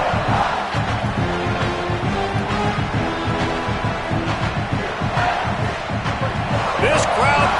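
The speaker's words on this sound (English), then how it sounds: "This crowd bringing the energy and noise early." Loud football stadium crowd roars continuously, a dense wall of cheering and shouting with rhythmic chanting rising through it.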